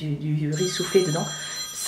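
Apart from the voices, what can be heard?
mobile phone ringing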